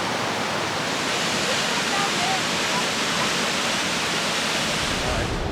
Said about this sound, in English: right below me, hey mom, is this little waterfall